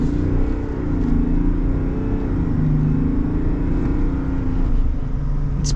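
A 2025 Chevrolet Silverado 1500 High Country pickup truck accelerating, heard from inside as a steady loud engine drone with a slowly rising and falling pitch, no talking.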